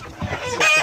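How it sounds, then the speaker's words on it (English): Chickens in a barn give a brief burst of close, mid-loud clucking, a few quick squawking notes run together. "chickens in the barn that's having a little struggle"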